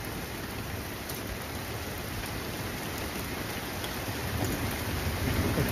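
A heavy hailstorm with thunder makes a dense, continuous roar of pellets on surfaces, loud and steady throughout and swelling slightly toward the end, with no voices.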